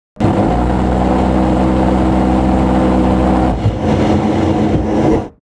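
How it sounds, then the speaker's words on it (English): An A-10 Warthog's rotary cannon lets out one loud, continuous, roaring burst of about five seconds, with a brief dip partway through before the roar cuts off sharply. "You hear it first when it fires, and then you hear it echo from the gun in the sky."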